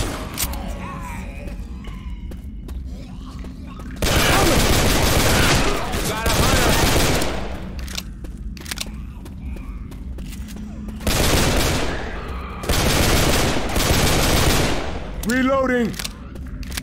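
Gunfire in the video game Left 4 Dead 2, loud bursts of rapid automatic shots in several long volleys, separated by quieter stretches with faint background noise and occasional shouting.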